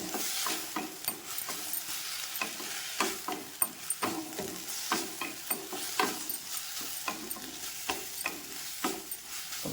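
Eggplant with sambar powder sautés in a pan, a soft sizzle underneath repeated scraping stir strokes that come in a brisk, uneven rhythm, close and fairly quiet, with no voices.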